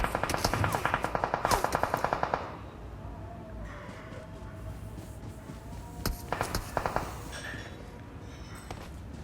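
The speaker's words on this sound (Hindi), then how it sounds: "इतने में आगे से मुझ पे फायर हुआ और वो बंदे मुझे स्पॉट हो गए।" Gunfire in the shooter game PUBG Mobile on the Livik map, a rapid burst of automatic shots up front and then scattered single shots and clinks over a low game background.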